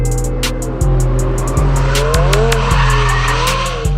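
A race car's tires squeal and skid over a loud, steady engine roar, with repeated screeching bursts and rising gear-shift tones running continuously through the whole stretch.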